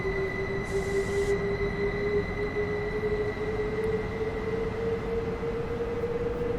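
Electrostar electric multiple unit running in a Train Sim game, a steady continuous rail hum with a sustained wheel squeal tone held throughout, loud and unbroken with no talk.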